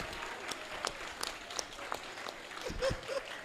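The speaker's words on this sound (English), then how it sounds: "Give our footballers a big round of applause" Applause for school footballers at a graduation ceremony: a modest, fairly distant audience claps steadily with scattered sharper claps, faint against the room's ambience.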